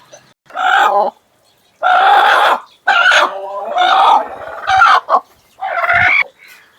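A black hen on a farm gives several loud, close clucking calls in bursts with short pauses between them, each a harsh, rising squawk, with no talking.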